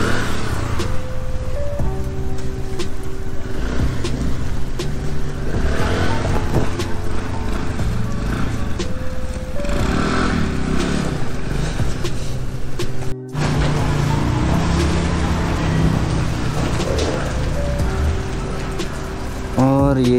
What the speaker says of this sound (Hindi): अभिमन्यु जी स्कूटी के साथ थोड़ा स्ट्रगल करते हुए